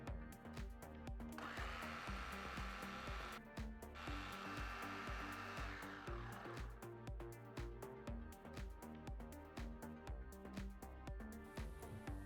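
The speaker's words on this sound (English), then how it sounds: "We cooled off our cashew tomato onion mixture," A blender purees a cooled mixture of cashews, tomato and onion, giving a loud, steady motor whir that surges and shifts pitch as the thick blend churns, with brief pauses between runs.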